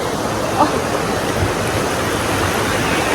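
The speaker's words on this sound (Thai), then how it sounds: "ในตรงนี้ มันก็จะเป็นน้ำตกนะคะ น้ำตก หัวผาย" Hua Phai waterfall in Kengtung, Myanmar, pours as a steady, dense rush of water, loud and continuous throughout, with a brief faint voice near the start.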